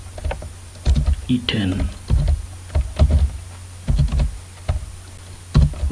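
Computer keyboard typing while working in Excel, in short clustered bursts of crisp keystrokes with pauses between, mixed with someone talking.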